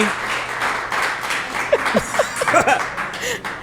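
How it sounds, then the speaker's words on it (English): Audience applause and clapping at a podcast speaker series event, a short burst of scattered claps with light laughter mixed in, fading under a speaking voice toward the end. "I put a limit on the clapping."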